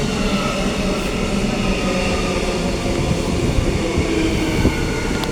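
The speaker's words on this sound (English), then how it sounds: "Arriving into platform 2, we have SMU 281." SMU 281 pulls into platform 2 at Coomera station, a loud, steady rumble of rolling wheels and carriages close by with faint squeals, no talking.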